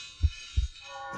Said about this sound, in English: I wanted to turn that heartbeat into something holy.